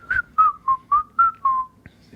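A person whistles loudly, sounding six short, clear notes in quick succession with a slight drop in pitch, alone and close.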